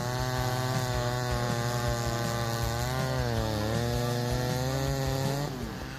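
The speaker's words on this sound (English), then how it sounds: "Let's see the wood sawing process of the McCulloch 797 125 sec machine, a formidable tool designed to conquer giant oak trees." A McCulloch 797 chainsaw with a 404 full chisel chain runs at a loud, steady whine while cutting through oak, its pitch sagging slightly under load before the engine eases off at the end.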